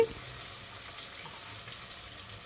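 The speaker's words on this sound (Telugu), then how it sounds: "ఇప్పుడు పోపు గింజలు, జీలకర్ర అన్నీ వేసేసాను" Tempering seeds and cumin fry in hot oil with a faint, even sizzle that stays low and steady and unbroken for the whole stretch.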